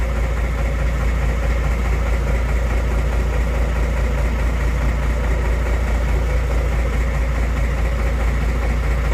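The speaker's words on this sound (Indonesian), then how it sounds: "Nah kalau ini ruang mesin pompa nih." The pump engine of a fire truck runs in its pump room, giving a loud, constant low drone with an even, vibrating hum and no variation or voices.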